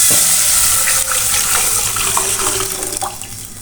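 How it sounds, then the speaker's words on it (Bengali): Milk pours steadily into a pan while making lachha semai, a continuous loud splashing, gurgling flow close by that eases off slightly toward the end. "এর ভিতরে আমি দুধ দিয়ে দিচ্ছি।"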